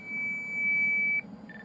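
A Radionics D6000 central station receiver emits a steady, piercing single-tone beep that holds, cuts off, then resumes at a slightly different pitch over a quiet electrical hum, close and clear.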